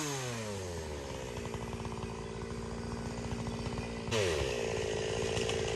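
Chainsaw cutting down Hoa Loc mango trees in an orchard, the engine revving steadily and loud throughout, pitch dropping then rising as the blade bites, with a sharp throttle surge near the end.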